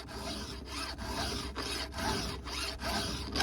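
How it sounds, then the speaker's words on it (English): A square file rasps across a Husqvarna chainsaw chain in steady back-and-forth strokes, about seven rhythmic passes, close and fairly loud with no talking. "This is how I square file."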